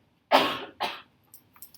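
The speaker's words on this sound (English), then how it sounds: "Sorry for the cough." Two sharp coughs in quick succession, close and fairly loud, followed by faint small throat sounds.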